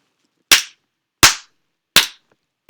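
Four sharp, loud hand claps spaced evenly about three quarters of a second apart, each one clipping the microphone input and decaying quickly into silence.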